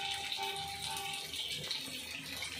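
Water poured into chicken curry cooking in a pan, a faint, soft splashing and trickling close by with light kitchen background noise.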